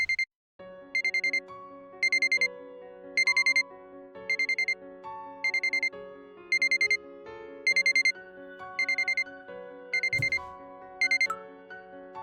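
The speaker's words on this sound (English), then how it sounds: "Is that my alarm?" A video game alarm clock rings in repeated bursts of bright electronic beeping, about a dozen evenly spaced pulses over a soft melodic chime, loud and alone with no voices.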